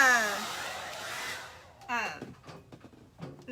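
A hand-held hair dryer on a cool setting blows across a craft transfer on wood for about a second and a half, then cuts off, leaving some quiet handling sounds and a little speech.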